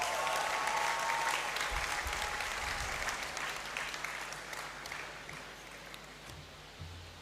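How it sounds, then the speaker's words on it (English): A hall audience at a university congregation ceremony in the Great Hall breaks into a thick, continuous round of applause that gradually thins and fades toward the end. "Let us give her another round of applause."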